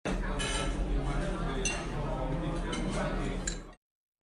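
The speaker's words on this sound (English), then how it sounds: "the soft hum of distant conversations and clinking silverware" Silverware and dishes clink faintly now and then in a restaurant, light metallic taps scattered over a steady murmur of distant conversation that fills the room before cutting off.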